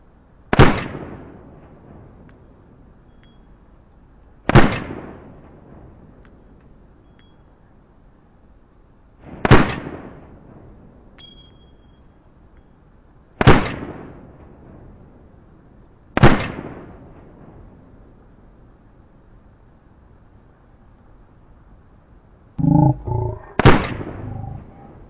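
Six sharp gunshot-like bangs in the video game DayZ Standalone, spaced a few seconds apart over a low steady background, the last one doubled with a brief burst just before it.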